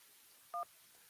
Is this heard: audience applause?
no